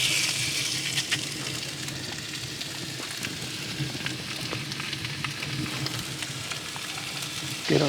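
Sausage frying in a pan at a campsite near the Sierra Nevada mountains, a steady close sizzle with occasional pops and crackles throughout.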